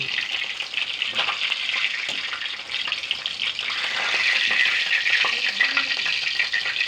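Pomfret fish frying in hot oil, a dense, continuous sizzle and crackle that swells louder midway, close up and steady without speech.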